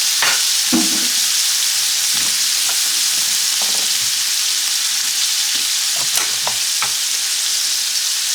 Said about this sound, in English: I'm actually just going to cook these shrimp up just for a couple of minutes.